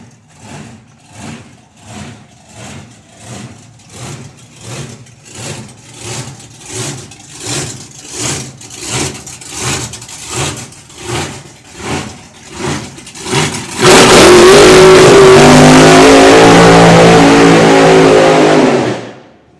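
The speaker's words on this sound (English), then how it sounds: "Good, strong burnout from Bob." A Mopar drag racing car idles in loud rhythmic engine pulses at a drag strip, then bursts into a sustained roaring burnout with screeching tyres for several seconds before cutting off.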